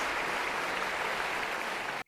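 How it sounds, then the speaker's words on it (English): A brief burst of dense, even applause plays at moderate level, then cuts off abruptly into silence. "A round of applause"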